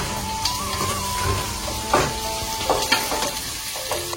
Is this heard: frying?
yes